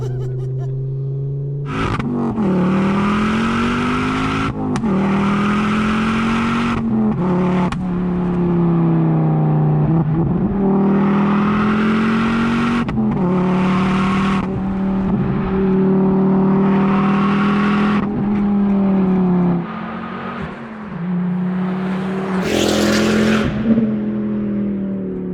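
Ford Focus RS MK2 engine revving hard through a loud exhaust, a strong sustained drone rising and falling in repeated throttle blips, close and dominant, with a short sharp crackle near the end.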